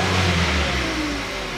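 A warmed-up 2012 Hyundai Solaris engine revs as the gas pedal is pressed, a loud, close, rising tone that gradually eases off.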